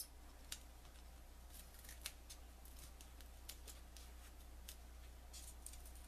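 Scissors snip through a strip of foam adhesive for a handmade card, giving faint, crisp cuts at irregular intervals over a quiet background hiss.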